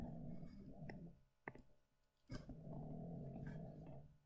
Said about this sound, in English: Can you hear my dog like groaning? I kind of hope you can, because it's very loud.